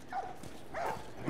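Dogs in The Last of Us Remastered video game give two short, moderately loud barks or yips about half a second apart, close by, with no speech over them.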